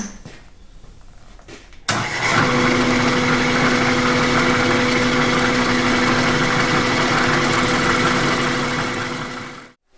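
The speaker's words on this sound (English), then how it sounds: "if I can do a plunge cut here and have the bit survive, it looks good" A milling machine makes a plunge cut into a steering joint: the motor spins up sharply and then holds a steady, loud, tonal whir for about eight seconds before winding down.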